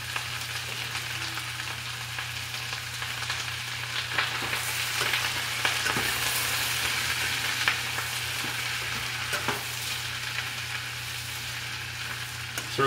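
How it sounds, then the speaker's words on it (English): A big batch of onions sautéing in a saucepan fills the space with a continuous bright sizzle, with occasional spatter pops and light stirring ticks over a steady low hum. "So we're gonna saute these onions for about 3 minutes until they soften up."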